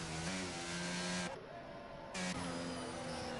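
Onboard race car engine from a racing video game holds a steady high whine with layered harmonics, briefly dropping in pitch as it shifts, then climbing again, loud and continuous.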